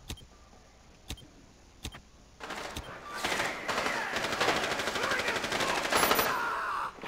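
Gunfire in Rainbow Six Siege on the Consulate map: a few isolated sharp shots first, then a sustained burst of rapid automatic fire that runs loud and dense for several seconds before cutting off.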